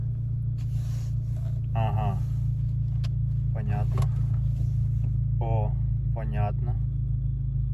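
A VW Golf GTI engine idles steadily, a loud low continuous rumble throughout, with a few brief voices talking over it.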